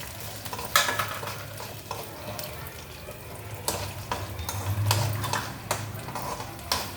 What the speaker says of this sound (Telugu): పోపు ఘనంగా ఉండాలి, ఆ పోపు బాగా వేగాలి